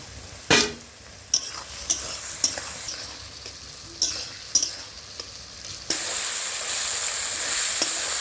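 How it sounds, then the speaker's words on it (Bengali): Ginger, garlic and onion paste fries and is stirred in a pan for chicken kosha, giving a steady close sizzle broken by several sharp scrapes and clatters of a spoon, with the frying growing louder toward the end. "আদা রসুন পেঁয়াজ ভালোভাবে ভাজা হয়ে গেছে"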